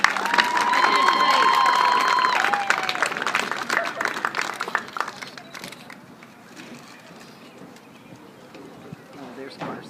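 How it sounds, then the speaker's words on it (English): A crowd applauds and cheers at a 2013 JCHS Lady Jays high school girls' soccer senior night. Sustained clapping fills the first half, then fades into quieter background noise as a voice talks. "Let's have a round of applause for Abby"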